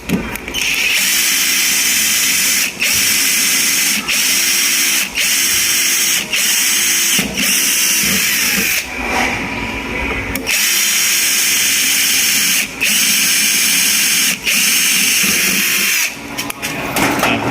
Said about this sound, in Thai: ก็ดอกสว่านดอกเล็กครับ นำก่อนนะครับ